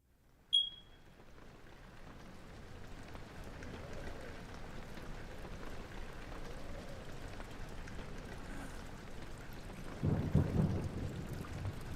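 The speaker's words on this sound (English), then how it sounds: "I hear rain, thunder." Steady rain hisses throughout, with a sharp crack near the start and a deep thunder rumble swelling toward the end.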